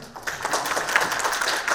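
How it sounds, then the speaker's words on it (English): Audience applause at a policy forum, a broad even wash of many hands clapping that runs steadily throughout at moderate level with no pauses. "I think that deserves a round of applause, right?"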